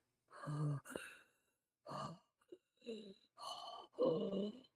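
A person imitates Darth Vader's breathing with a string of harsh, breathy inhales and exhales, six short close bursts separated by pauses.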